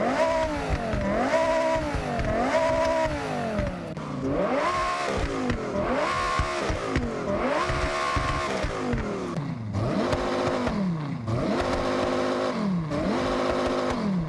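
In Forza Horizon 6, a Mazda Miata swapped to a V10 revs over and over in repeated rising and falling sweeps. The loud, continuous engine howl climbs and drops roughly every second with no talking.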